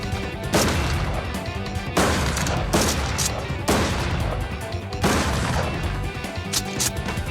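An M16 rifle and a 12-gauge tactical shotgun are fired in turn, producing four loud, sharp blasts spaced about 1.5 seconds apart, each followed by a brief booming decay, with no talking.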